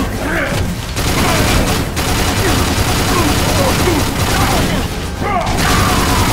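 Continuous rapid gunfire from an infinite-ammo weapon in the video game Let It Die, a loud dense stream of shots with mechanical clatter and a few brief gaps.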